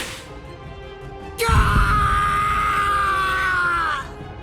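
A man's sustained cry of pain bursts out suddenly and holds for about two and a half seconds over a low impact rumble, loud and near, in the video game Bleach Rebirth of Souls.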